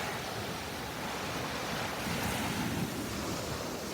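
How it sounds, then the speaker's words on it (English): Rolling ocean waves breaking on a beach with clear water, a continuous broadband wash of surf with a slight swell midway, steady and fairly close, mixed with wind noise and no talking. "Nice rolling waves."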